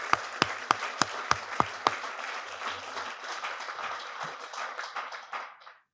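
A crowd at a health-affairs sponsorship kickoff event breaks into dense applause, opening with a few sharp, loud nearby claps before settling into steady clapping that gradually fades away.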